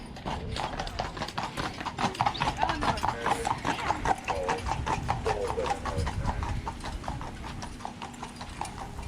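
Horse hooves clip-clop steadily on a street of Mackinac Island as a horse-drawn carriage moves along, a fast, even rhythm of close, clear strikes over a continuous background rumble.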